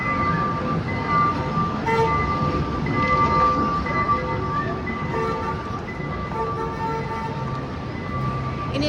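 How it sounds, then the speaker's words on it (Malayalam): A train rumbles past near a shopping mall in Trivandrum, a loud continuous rolling roar with a few steady tonal whines running through it and no talk. "ട്രെയിൻ വരുന്നുണ്ട്, ട്രെയിൻ ഇടിച്ച് ആവും."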